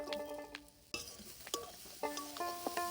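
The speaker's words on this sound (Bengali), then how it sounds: "গুড়টাকে ভালো করে নারকেলের সঙ্গে মিশিয়ে নিচ্ছি" A utensil stirring grated coconut and jaggery in a wok for a pitha filling, with soft scraping strokes and occasional light clinks against the pan, quiet and close.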